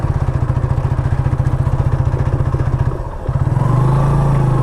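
A motorcycle ridden through loose sand beside a nearly dry riverbank, its engine thumping loud and close in a steady pulse, briefly dipping before rising into a harder, sustained rev.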